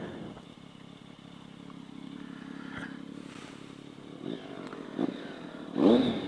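2012 Triumph Speed Triple motorcycle being ridden, its engine a steady low drone under wind rush, swelling briefly louder toward the end.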